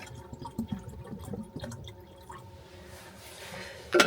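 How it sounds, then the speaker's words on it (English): Quiet trickling and dripping water pours into a kettle, with small clinks, ending in a brief louder splash, at a cold snowy campsite. "I'm just gonna finish putting water in the kettle up to the fill line."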